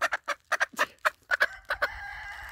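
A Leghorn hen clucks in a quick series of sharp, close calls, about a dozen loud bursts in an uneven rhythm, ending in a drawn-out, wavering squawk.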